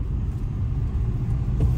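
A private car driving on the way to Qeshm island gives a steady low engine and road rumble, close and continuous, with no talk over it.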